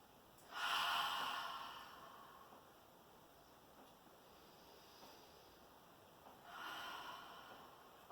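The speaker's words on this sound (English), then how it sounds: "2 more deep breaths." Two deep, audible breaths during a morning hatha yoga flow, each a slow airy inhale or exhale swelling and fading, separated by quiet, close to the listener.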